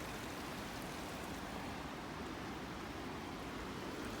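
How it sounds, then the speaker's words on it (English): Steady rain sweeping across a mountain campsite near Watchman Lake, a dense, even hiss of drops that holds at a constant level throughout with no voices. "there's a bunch of rain sweeping in now"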